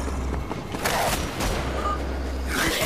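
Dense gunfire rattles in the video game Wolfenstein: The Old Blood, with sustained loud shots and booms layered over a constant rumbling game soundscape.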